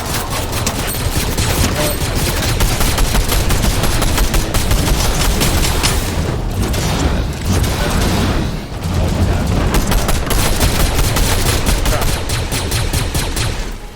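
Rapid, dense bursts of shotgun and other gunfire in the video game Fortnite, loud and nearly continuous with brief lulls midway.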